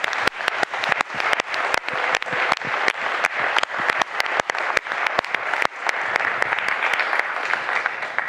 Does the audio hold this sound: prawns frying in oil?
no